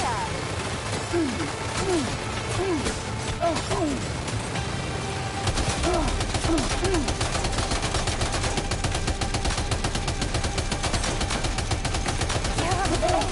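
Video game gunfire from Death Stranding 2, with continuous rattling automatic shots under a dense mix of game effects, bird-like cooing calls and shouted voices throughout.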